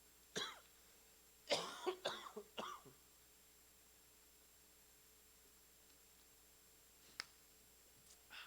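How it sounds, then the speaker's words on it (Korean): A few short coughs and throat-clearing bursts from a preacher during a Sunday church service near the start, then mostly quiet room tone with a faint click later. "제가 자꾸 기침이 나서 너무 죄송합니다."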